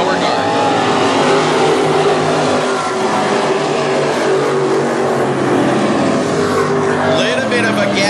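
WISSOTA Midwest Modified race cars roar around the North Central Speedway dirt track, a loud, sustained engine drone with cars passing close, under a commentator's running talk.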